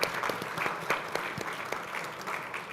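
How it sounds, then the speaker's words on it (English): An audience applauds a panel at an Economist live event, a steady patter of clapping lasting a few seconds, moderately distant and without talk. "Please join me in giving them a round of applause."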